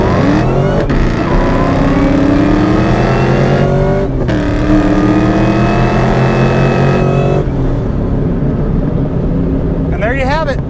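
A 2003 Ford Mustang SVT Cobra Terminator with 42,000 miles revs hard on a drive, the engine note climbing through the gears in loud rising sweeps, with shift breaks between pulls before the throttle lifts and the roar fades near the end.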